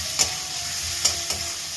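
Onions hitting hot butter with garlic in a pan for a homemade sandwich: a loud, close, continuous sizzle with a few sharp spatula scrapes breaking through.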